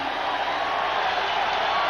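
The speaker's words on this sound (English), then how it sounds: "Listen to the crowd." A packed arena crowd roars and cheers continuously during a timeout in a close 1985 NBA playoff game between the Cleveland Cavaliers and Boston Celtics, a dense, loud wash of noise with no pauses.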